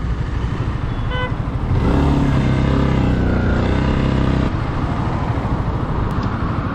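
A Yamaha motorcycle engine runs steadily up close while the bike makes a U-turn, the tone swelling louder and heavier in the middle before easing back, with a couple of faint short beeps near the start.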